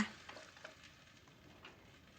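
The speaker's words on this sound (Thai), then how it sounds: "แล้วก็ผัดไก่กับสามเกลือไปให้สุกสักประมาณหนึ่งนะคะ" Soft sizzling with faint scraping and stirring, as chicken is stir-fried with a garlic, coriander root and pepper paste in a hot pot, quiet and steady with occasional light clinks.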